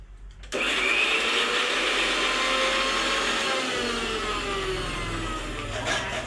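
A mixer grinder grinds spice paste to a butter-smooth texture. It starts abruptly and then holds a loud, steady, close whirring roar for several seconds with no talking.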